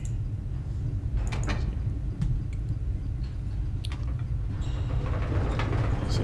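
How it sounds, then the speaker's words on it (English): Tram ride in the Riven computer game heading to Crater Island, a continuous low mechanical rumble with scattered clicks and rattles, steady throughout and free of speech. "This tram will take us to Crater Island."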